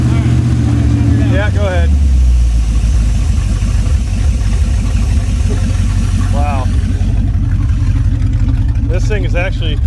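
An abandoned Chevrolet C10 pickup's engine runs with no exhaust fitted, a loud, steady, raw idle with a rough pulsing rumble, while people talk briefly over it up close.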